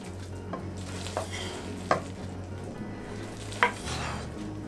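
Thick sauerkraut flatbread batter is stirred in a bowl, making a steady low scraping drone broken by a few sharper knocks of the spoon against the side, close up.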